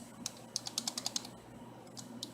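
Keys tapped on a computer keyboard while searching a vehicle auction site, a quick burst of about seven close, crisp clicks followed by a pause and two more isolated taps over quiet room noise.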